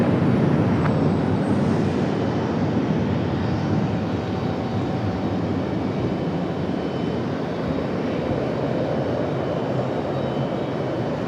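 A fixed-wing airplane on takeoff from runway 23 right at Raleigh-Durham International Airport gives a steady, loud, broad engine roar that holds evenly throughout.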